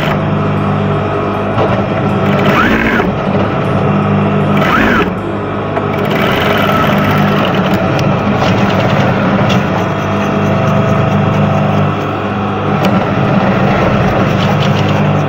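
Sewing machine stitching an apron, a steady mechanical hum and whir running continuously with a couple of brief pauses, fairly loud and close, without speech.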